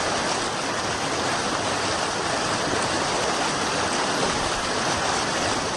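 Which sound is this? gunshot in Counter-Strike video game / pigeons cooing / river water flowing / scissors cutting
river water flowing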